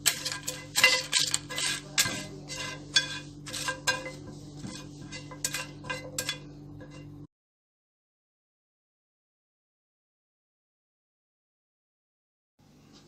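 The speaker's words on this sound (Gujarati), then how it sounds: "આપણે 2 મિનિટ માટે આને ડ્રાય રોસ્ટ કરવાના છે" Whole spices dry roasting in a pan over a low flame, with dense clinks, scrapes and light rattles of stirring for about seven seconds, then silence.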